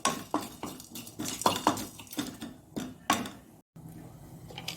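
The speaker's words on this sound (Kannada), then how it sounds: "ಈಗ ಇದನ್ನು ಸ್ವಲ್ಪ ಫ್ರೈ ಮಾಡಿಕೊಳ್ಬೇಕು." Jal jeera spices being dry-fried in a pan, with a spatula scraping and clinking against the metal in quick, irregular strokes, close and fairly quiet.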